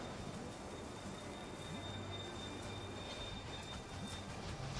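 Trains in the railway management game Railway Empire rumble along continuously as a faint, steady rolling hum with light metallic wheel squeal.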